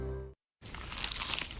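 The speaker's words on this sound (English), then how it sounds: "Is that the sound of an ooey gooey cheesy crunchy slice of P-I-Z-Z-A?" Someone bites into a crunchy, cheesy pizza slice: a loud, close, sustained crackling crunch that follows a short tonal snippet and a moment of silence.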